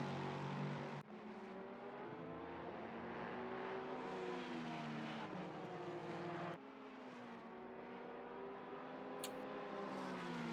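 Race cars in Assetto Corsa Competizione at Spa, passing a backmarker Porsche, make a loud continuous engine drone with shifting pitch and gear changes, with no talking.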